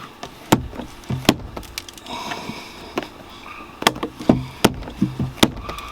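A Jensen Interceptor glovebox lid snaps shut with several sharp knocks and clunks spread unevenly, close by and fairly loud, with small rattles and mechanical fiddling between the hits.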